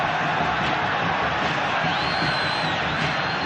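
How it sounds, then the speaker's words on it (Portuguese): A large football crowd at São Januário stadium in Brazil, heard during a 1998 Libertadores match, makes a continuous distant roar with faint cheering and whoops, and a thin steady whistle tone runs through part of it. "Já temos alguns torcedores aqui em São Januário gritando olé."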